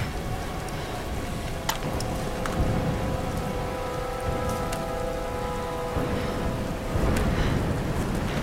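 Steady heavy rain in the video game Tomb Raider patters on surfaces throughout, with a faint low rumble and a few sharp drips cutting through.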